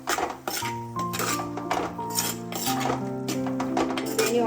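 A spoon clinks and scrapes against a pan while prawn curry, Kerala style and finished with raw coconut oil, is stirred; repeated metallic taps sound close over steady background music.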